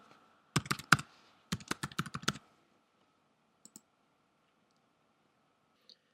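Computer keyboard keys clicking as a username and password are entered, two quick bursts of close, crisp taps with a short pause between, followed by a few isolated clicks in an otherwise quiet room.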